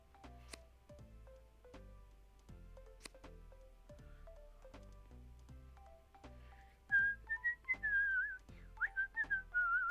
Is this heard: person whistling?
yes